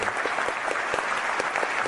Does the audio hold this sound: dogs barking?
no